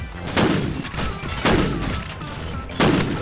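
Shotgun blasts in Call of Duty 4 gun game mode come in three heavy, booming reports spaced about a second apart, each with a short decaying tail over game noise.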